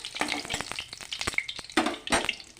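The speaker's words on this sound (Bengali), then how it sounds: "তারপর এইভাবে আমি বাকি সবগুলি ভেজে নেব" Egg pieces for egg chilli fry in hot oil, a crackling sizzle broken by sharp clatters and scrapes of stirring, close and fairly loud, with no voices.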